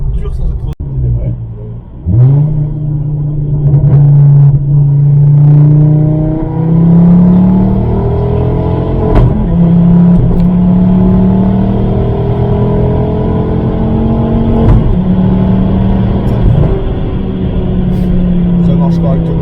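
A Ford Focus ST engine revs and accelerates through gear changes, a loud steady droning climb in pitch that drops at each shift, with people talking over it inside the car.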